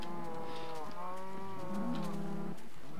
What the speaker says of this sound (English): There's a fair amount of cows there.